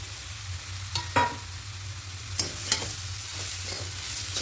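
A carrot pitha mixture with sugar and cardamom is stirred in a pan, a low continuous sizzle with a few sharp scraping strokes spaced out, close and without talk.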